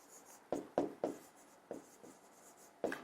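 Writing on a board during a physics lesson on latent heat: a series of about seven short, scratchy strokes in uneven bursts, close and clear with no talking.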